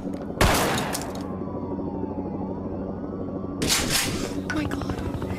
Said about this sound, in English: Fine, I'll start shooting anyway.